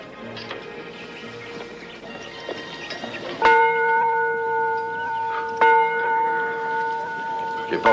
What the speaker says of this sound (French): fais sonner la cloche.